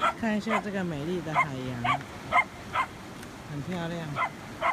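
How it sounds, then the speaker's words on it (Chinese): A dog barks and yips at a pig on a seashore on Orchid Island (Lanyu), giving several short, sharp bursts at moderate distance, mostly under a person talking throughout. "现在狗狗跟猪在吵架，"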